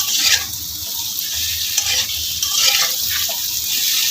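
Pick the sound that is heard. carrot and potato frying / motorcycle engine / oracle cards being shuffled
carrot and potato frying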